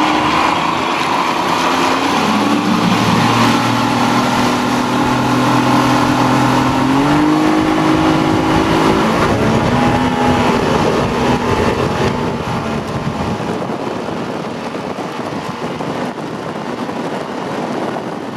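A motorboat's 90 outboard engine drones steadily at high revs near its roughly 37 mph top speed, its pitch climbing and holding, loud and close throughout with no voices.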